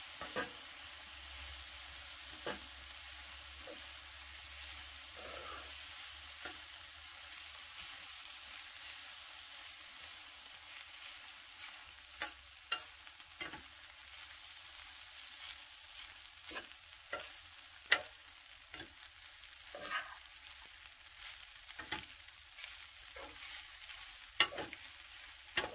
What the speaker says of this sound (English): You will have to fry this about 3 to 5 minutes, like so, until the noodles get cooked all the way.